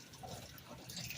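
Water runs from a hose into a bucket, a faint steady splashing and gurgling rush, brief and unbroken.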